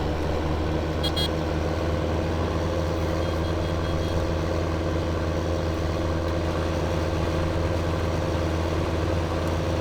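Vehicle pulling a muck spreader in Farming Simulator 15, a steady low engine drone with mechanical hum, constant and close throughout with no talk.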